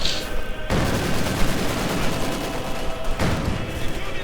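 Dense battlefield gunfire and a Panzerfaust blast rattle on in Company of Heroes 2 as a T-70 light tank attacks, sounding as a loud, continuous barrage of shots and explosions with faint commentary beneath.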